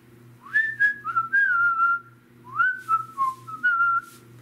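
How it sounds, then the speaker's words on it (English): A melodic whistled tune, several sliding notes in two phrases with a short pause between, over a low steady hum. "Whistle."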